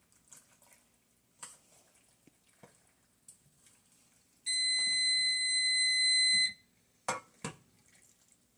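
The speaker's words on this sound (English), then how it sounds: "And the timer just went off." A kitchen timer goes off while pasta cooks, a loud steady electronic beeping tone holding for about two seconds amid soft clinks and water sounds from the kitchen.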